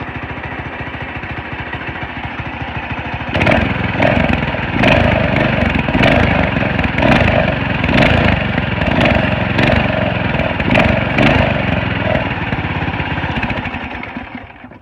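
A Predator 212 small petrol engine fitted to a Coleman CT200U minibike chugs at a steady idle, loud and close, its rapid pulsing running unbroken before fading slightly near the end.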